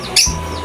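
Pet lovebirds at morning feeding let out one short, loud, close chirp, and a low hum stays underneath.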